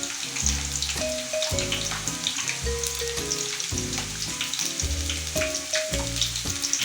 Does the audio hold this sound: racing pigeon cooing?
no